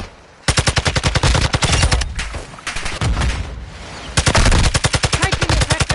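Rapid automatic gunfire in Call of Duty DMZ, long close bursts of fast repeating shots with brief gaps and shifts in tone between volleys, loud and continuous.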